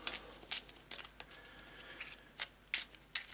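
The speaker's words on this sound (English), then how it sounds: "And give it a shuffle." Eldritch Horror board game cards being shuffled by hand, a series of short crisp riffling bursts spaced unevenly, close and fairly quiet, with no talking.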